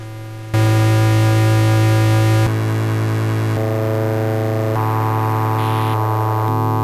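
A complex modular synthesizer VCO with two detuned oscillators drones in buzzy, harsh sustained tones, shifting abruptly through several timbres and pitches, loud and alone without speech.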